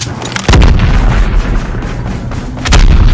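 Gunfire in the Call of Duty Mobile video game, two heavy booming shots about two seconds apart with a murky rumbling battle background between them, loud and close.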